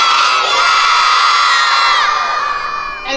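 A crowd of children at a school assembly shouts and cheers loudly, their voices merged into a bright, sustained roar that fades slightly at the end.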